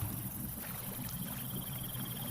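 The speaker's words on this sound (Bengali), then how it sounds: "এমন সময় জলের উপর দূরে ঝপঝপ দাঁড় ফেলার শব্দ শোনা গেল" Oars dip and splash steadily as a small wooden boat is rowed across a river, the rhythmic strokes soft and distant beneath a constant rush of wind and water.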